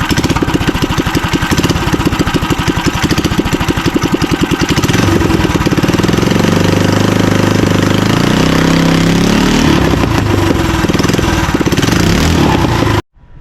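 A small engine fitted with a CVT double-reduction drive on a minibike is pulled to life and runs, a rapid chugging turning into a loud steady close-up drone that cuts off abruptly at the end.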